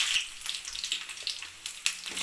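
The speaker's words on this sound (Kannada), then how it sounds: "ಇವಾಗ ಬೆಳ್ಳುಳ್ಳಿ ಹಾಕ್ಕೊತಾ ಇದ್ದೀನಿ, ಕರಿಬೇವು ಹಾಕ್ಕೊತಾ ಇದ್ದೀನಿ, ಸ್ವಲ್ಪ ಸಾಸಿವೆ ಹಾಕ್ಕೊತಾ ಇದ್ದೀನಿ. ಇದನ್ನು ಚೆನ್ನಾಗಿ ಫ್ರೈ ಮಾಡ್ಕೊತಾ ಇದ್ದೀನಿ." Garlic, curry leaves and mustard seeds frying in a pan, a steady bright crackling sizzle with small pops, close and fairly quiet, no voices.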